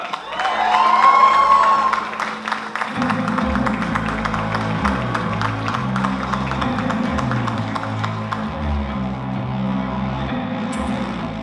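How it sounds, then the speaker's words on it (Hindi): Audience applause and cheering welcome the producer onstage at a Mirzapur Season 3 trailer launch event, a dense steady wash of clapping from a large crowd lasting throughout, with music or a voice over it at the start. "जोरदार तालियों से स्वागत कीजिए"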